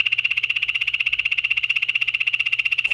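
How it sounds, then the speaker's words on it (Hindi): Poison dart frog calling near a jungle pond, a fast steady train of high buzzing trill pulses, loud and close, alone without voices. "ये एक जहरीले मेंढक की आवाज थी जिसका नाम पॉइजन डार्ट"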